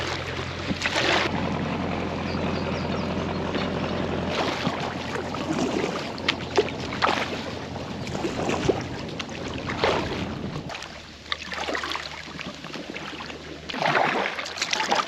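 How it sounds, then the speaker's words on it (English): Boat traffic passing in a busy harbour, heard from an inflatable kayak on the water: low engine rumble and wash come and go under gusting wind noise, with splashes and knocks close by. "We've got boat traffic now."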